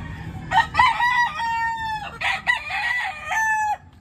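A young rooster (stag) crows in a backyard, giving several drawn-out calls in a row that sound fairly close and clear, with no talking over them.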